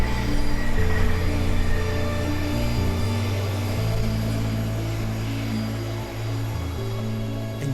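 An airplane on an ICE deportation flight passes overhead, a loud, steady engine drone with low humming tones that shift slightly in pitch, continuous and alone with no talk.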